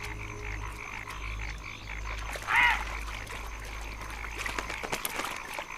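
Frogs croaking in a wetland pond in Indochina, a steady chorus of repeated calls with one louder nearby croak standing out, all set over a constant low background hum.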